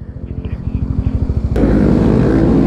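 A motorcycle engine idles in a pulsing rhythm, then is revved hard into a loud sustained roar, close to the listener.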